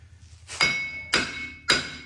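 Three short bursts from an impact wrench on the control arm bolts of a 2008 Silverado 1500 4x4, each a sharp, close hit that rings briefly and fades, spaced about half a second apart.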